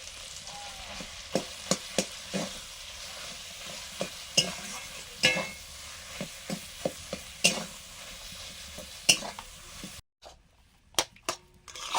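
Spiced potatoes stir-fried in a pan with chilli powder and masala: a steady close sizzle with repeated sharp scrapes and knocks of a spatula against the pan, briefly cutting out near the end before a few more clinks.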